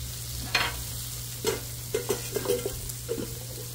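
Potatoes frying on a Blackstone griddle are stirred with a spatula. A steady sizzle runs under a series of quick scraping, tapping strokes, close and clear, with no talk.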